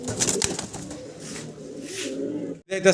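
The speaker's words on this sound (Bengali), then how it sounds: "ককা কবুতর মাসাল্লাহ কিন্তু হিউজ পরিমাণ ডাকাডাই করে" Pigeons coo in a cage of pigeons kept for sale, the low rolling calls running steadily and fairly close through most of the stretch, then breaking off briefly near the end before resuming.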